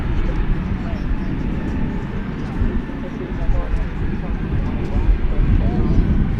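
An airplane taxis past Terminal D at DFW Airport, giving off a steady, loud engine rumble and roar that runs the whole time beneath talk.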